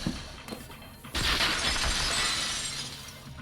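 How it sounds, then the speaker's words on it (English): Glass shatters in the video game Danganronpa 2: Goodbye Despair, a sudden loud crash after a short lull that breaks into a sustained, bright spray of tinkling shards. "Keep breaking glass everywhere."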